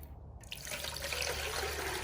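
Warm tap water pours into an ultrasonic cleaner tank, a steady close splashing flow that builds and fills the short stretch without speech.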